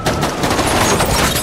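Gunfire from a shootout between two sides in an action film: dense, continuous rapid bursts of shots, loud and overlapping, with no clear pauses.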